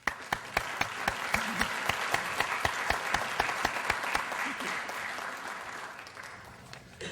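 A lecture audience applauds the support staff, with sharp, distinct claps at first quickly merging into steady crowd applause that gradually tapers toward the end.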